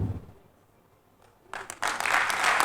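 After a quiet, low rumble, a pageant audience at Miss Rondes et Jolies Gabon bursts into applause that swells and keeps going, loud and dense toward the end.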